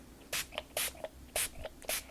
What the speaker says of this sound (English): So I'm using extra spray.